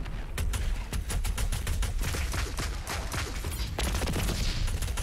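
Rapid, loud weapon fire in the first-person shooter Doom Eternal, a dense run of overlapping blasts and explosions from a rocket launcher with no pauses, close and continuous throughout.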